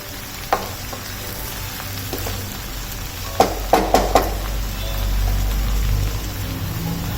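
Mixed winter vegetables for Bhogi bhaji sauté in a pan, giving a steady close sizzle with a few sharp clicks and taps from stirring. No voices.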